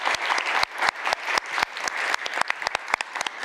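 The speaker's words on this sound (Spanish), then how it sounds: "Un aplauso." Audience applause after a keynote presentation at a conference, close and loud with distinct sharp individual claps punctuating a continuous wash of clapping from a modest crowd.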